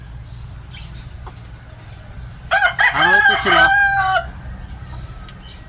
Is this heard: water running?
no